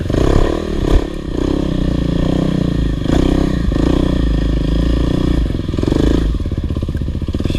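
A dirt bike, a Kawasaki KLX 300R or KTM 450SXF, runs loud and close, its engine droning steadily with small swells and dips in throttle and some mechanical clatter, without speech.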